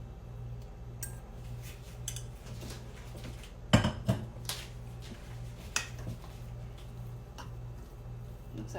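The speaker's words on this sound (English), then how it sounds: "I'm going to toss our sausage back in." Smoked sausage is tossed back into a pot of hot rice, giving a couple of close clattering knocks and scrapes over a steady low background hum.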